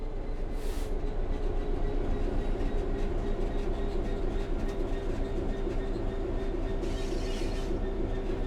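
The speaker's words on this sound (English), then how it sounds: "The train will then coast on level ground, and the train will only slow down very gradually." A simulated train in Train Sim World 3 rolls steadily along the rails on level ground, a continuous loud rumble of wheels with faint rhythmic clacking throughout and no voices.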